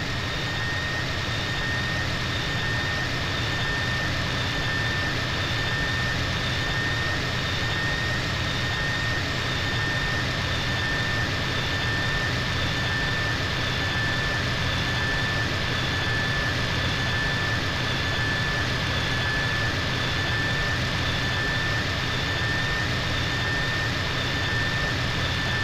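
A steady, droning jet engine hums throughout as an airplane flies toward Las Venturas airport in GTA San Andreas, with a continuous low roar and faint high whine, no talking.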